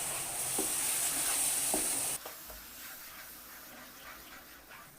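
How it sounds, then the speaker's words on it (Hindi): A spoon stirs semolina halwa with sugar syrup in a pan over low heat, giving a soft scraping sizzle that is brighter at first, then settles into quieter stirring. "और चम्मच को 5 से 7 मिनट के लिए चलाती रहूँगी।"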